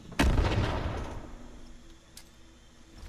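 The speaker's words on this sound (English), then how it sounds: "I'm shooting it!" A single heavy gunshot boom in the video game Fallout 76 during a Deathclaw raid. It hits hard near the start and then trails off into a long fading rumble, with faint background game noise afterward.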